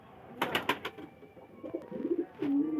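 Pigeons at a feeding spot, with several quick close wing flaps or scuffles early on followed by soft, low cooing calls that swell toward the end, fairly near and with no speech.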